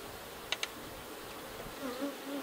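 Honeybees buzz steadily around open hive frames in a beekeeping check of new splits, a soft continuous hum with a couple of brief clicks and a louder bee droning close by near the end.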